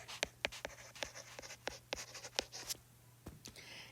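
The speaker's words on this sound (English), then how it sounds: "Let me write that in." Marker or chalk strokes on a classroom board make a quick series of soft taps and scratches, close and quiet, with a short pause before the last few strokes.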